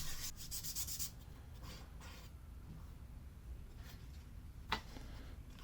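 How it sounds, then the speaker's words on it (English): Sandpaper rubbing on a wooden violin bridge, a dense rasping burst of quick strokes at the start, then quieter scattered scraping with one sharp tick near the end; no talk. "And then I sand the bridge."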